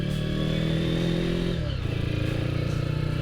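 Honda CB Tiger motorcycle with a 300cc bored-out engine climbing uphill in first gear, a loud, close, steady engine drone whose pitch dips and roughens briefly midway before settling into a throbbing pull.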